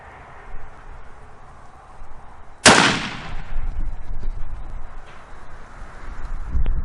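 A single loud, sharp rifle shot from a 30-year-old Savage Model 110 in .243 at a sight-in session, with a sudden crack followed by a decaying boom, then quiet outdoor background.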